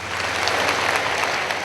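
Audience applause fills a formal event hall in Pakistan, steady dense clapping from a large crowd throughout, even and sustained with no pauses.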